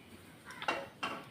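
A metal cooking pan set down on a stove, two quick faint clanks in a quiet kitchen.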